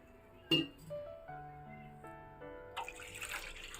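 A light clink of glass, then water is poured into a glass, its ringing tone rising steadily in pitch as it fills.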